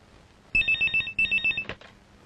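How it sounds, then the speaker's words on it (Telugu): Telephone in a classic Telugu film scene rings with two clear bursts of rapid electronic trilling, close and fairly loud against a quiet background, ending with a brief click. "హలో. ఒరేయ్ ఒకసారి పార్వతికి ఫోన్ ఇవ్వు, ఇక లేట్ అయ్యేలా ఉంది."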